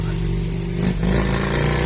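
A motorcycle passes nearby, its engine rising to a loud buzz and staying strong through the brief moment.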